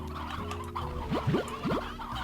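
Several short clucks from chickens in Slime Rancher, in quick pairs, mid-loud over a steady game-like background hum, with no talking.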